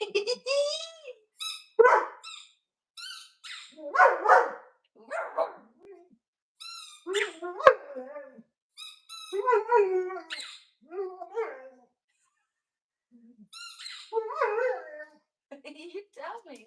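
A dog howls in long, wavering bursts, repeatedly starting and stopping over several seconds, near and fairly clear, with brief quiet gaps between howls and occasional human voices mixed in.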